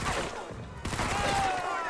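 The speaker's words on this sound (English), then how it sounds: "I can shoot down these guys" Gunfire in the World War II shooter Medal of Honor: Vanguard on hard difficulty, a sharp report followed by a steady run of shots amid battle noise and a faint whistle, with voices mixed in.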